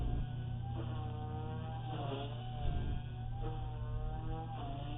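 A Blade 180 CFX RC helicopter climbing out on idle 1, its motor and rotor giving a steady, continuous whine with a few rising and falling tones over a constant drone.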